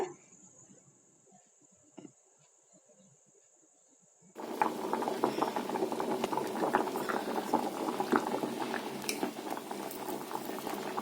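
A pot of drumstick sambar bubbling at a steady boil, a dense, continuous simmering roar that starts suddenly after a few seconds of near-quiet with faint clinks.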